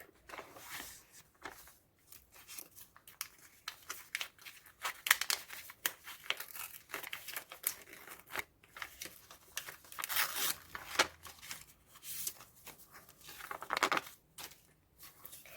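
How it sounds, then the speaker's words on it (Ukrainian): Plastic crinkles and tears close by in irregular bursts, a packet being ripped and crumpled open over several seconds, with no speech. "І відкриваємо ось цей пакетик."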